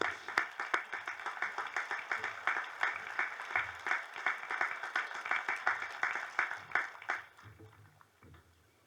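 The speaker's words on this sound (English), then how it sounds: "A round of applause for all of those speeches." A graduation ceremony crowd at Bellows Falls Union High School bursts into a round of applause, dense steady clapping that carries for most of the stretch before thinning out and fading near the end.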